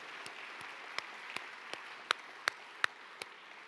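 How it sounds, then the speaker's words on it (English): Audience applause for sponsors at the APA Heritage Awards 2023 evening, a faint, distant wash of clapping with a few sharp close claps standing out at irregular intervals. "let's give that huge round of applause you've been waiting to give right now to all of our sponsors this evening"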